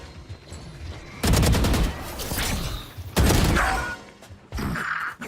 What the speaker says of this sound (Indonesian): Tinggal nembak.